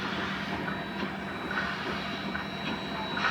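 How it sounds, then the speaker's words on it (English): A train approaches near the Western Pacific Railroad Museum, giving a steady, even rumble with faint rail noise; no one speaks over it. "there's a train coming"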